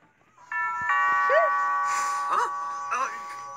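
A two-tone electronic doorbell chime rings out, its steady tones sustained while a voice talks excitedly over it.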